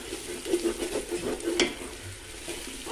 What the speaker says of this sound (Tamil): எடுத்து வச்சுருந்த புதினா மல்லியை சேர்த்து நல்லா வதக்கி விடலாம்